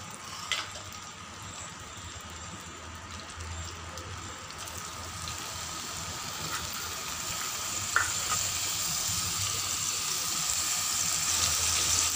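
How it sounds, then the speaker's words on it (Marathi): Tomatoes and spices sizzle and fry in about two tablespoons of hot oil as they are stirred, a steady close crackling hiss running throughout with one brief clink of the spoon. "यात आपल्याला हे टोमॅटो आणि हे सर्व टाकून द्यायचं आहे."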